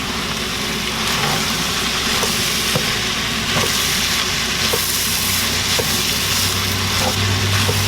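Chicken giblets and green onion stalks frying in a pan, with a loud, steady sizzle and faint regular stirring knocks, alone with no talk.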